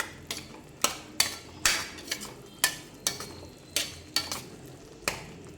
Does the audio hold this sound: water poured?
no